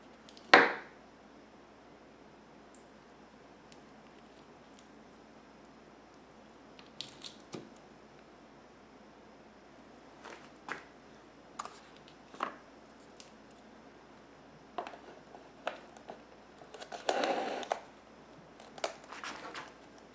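Honeycomb is cut into big squares for cut comb during a honey harvest, producing sparse soft squishy slices and small taps scattered across a quiet background.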